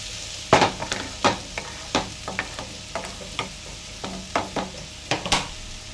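Curry with coriander stirred in a pan, a spoon scraping in a dozen sharp, evenly spaced strokes over a low background sizzle, close and fairly quiet, with no voices.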